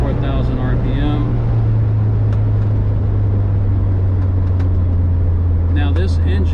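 A Volkswagen Vanagon van with a swapped Honda K24A engine pulls steadily in second gear at around 4,000 RPM, a loud constant drone filling the cabin from start to finish, with a voice speaking over it at the beginning and end.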